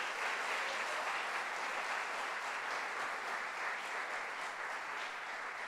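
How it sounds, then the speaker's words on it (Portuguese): A church congregation claps steadily at a service, a dense, even wash of applause that stays full and constant from start to finish with no voices over it. "Dê uma forte salva de palmas para Jesus."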